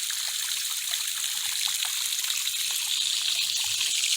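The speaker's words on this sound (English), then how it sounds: "And I'm filling up the pond water now." Water pouring and trickling steadily as a garden pond fills, a constant close splashing hiss with no breaks and no talk.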